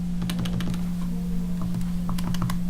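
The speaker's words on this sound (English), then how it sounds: "in my calculator, I'm going to type this equation" An equation being keyed into a calculator: quick clusters of crisp, close button clicks in uneven bursts over a steady low electrical hum, with no talking.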